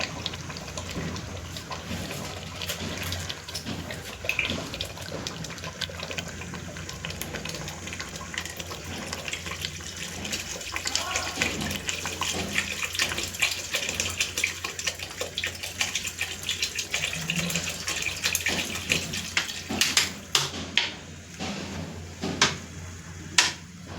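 Water poured from a bottle into a pot of mutton curry, a steady trickling, splashing wash that runs close and fairly even for most of the stretch, with a few sharper clicks and knocks near the end.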